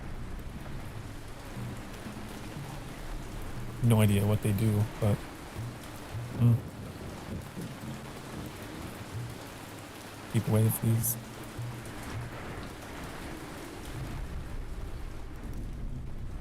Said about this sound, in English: The rain in this game is so loud.